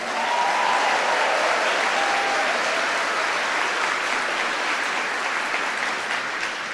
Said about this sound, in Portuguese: Agora eu e você que estamos aplaudindo